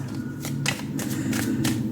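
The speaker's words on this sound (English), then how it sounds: "Oh, that's a bad shuffle" Tarot cards are shuffled clumsily and quietly, giving a short run of soft, uneven riffling taps.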